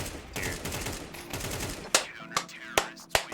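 Flashbang grenade popping in the Counter-Strike video game: a burst of rapid gunfire gives way to four sharp, loud cracks spaced roughly half a second apart, with no talking.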